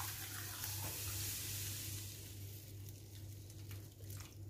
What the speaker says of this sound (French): vous mettez de l'eau dans votre casserole